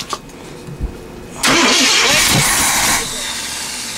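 Car with a 454 engine struggling to start: a faint crank and clicks first, then the engine catches with a loud rising roar that settles into a steady idle, close by with voices in the background.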